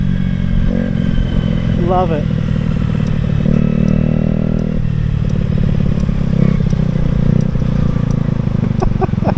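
A Honda motorcycle engine runs loud and close throughout, a steady rumbling idle with brief revs and crackles, while someone talks over it.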